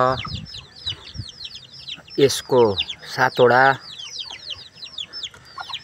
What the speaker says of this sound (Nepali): यसलाई चाहिँ भन्छ घरको प्योर लोकल कुखुरा